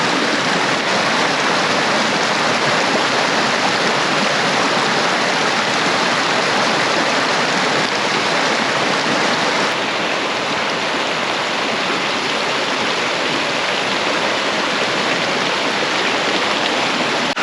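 A mountain creek in Fishlake National Forest rushes nearby in a dense, steady wash of water that stays loud and unbroken throughout, with no voices.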